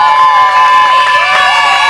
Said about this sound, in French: Sous nos applaudissements, s'il vous plaît.